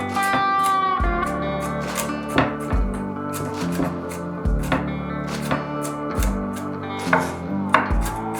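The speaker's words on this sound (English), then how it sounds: "Begin by dicing the jalapeños and shredding the cheese." A knife dices jalapeños on a cutting board, giving a steady run of crisp, close chopping taps, evenly spaced and loud with no voices.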